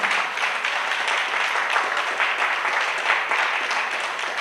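A church congregation breaks into applause after a sermon, a continuous wash of many hands clapping that stays even and moderately distant for several seconds.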